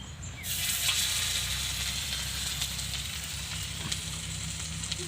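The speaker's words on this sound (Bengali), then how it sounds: "আমি সবগুলো ভেজে নেব" Pieces of banana stem fry in hot oil in a home kitchen, giving a steady, close sizzle that holds evenly throughout, with a low hum beneath it and no talking.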